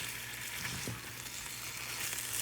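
Food frying in a pan on turned-down heat makes a soft, even sizzle that runs the whole moment, close and fairly quiet, with one small clatter and nobody speaking.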